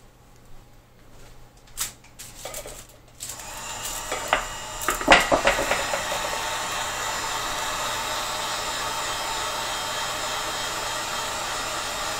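A heater blows hot air across a wooden bow, starting with a few handling clicks and knocks before settling into a steady, even rushing hiss that holds close and constant.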